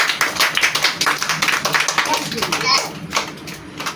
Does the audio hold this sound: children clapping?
yes